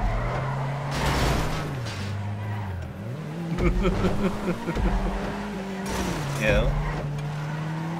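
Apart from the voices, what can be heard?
car skidding and spinning out in a racing video game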